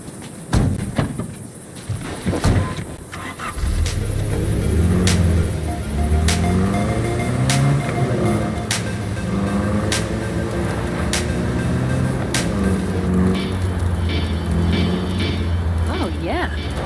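Car driven in Cyberpunk 2077, a steady engine hum and road rumble heard from inside the cabin, starting with a few knocks and continuing under a conversation.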